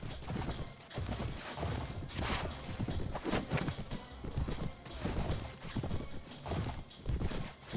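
Horse hooves clip-clop steadily in the game Mount & Blade: Warband, with occasional neighs and whinnies over a busy battlefield, loud and continuous throughout.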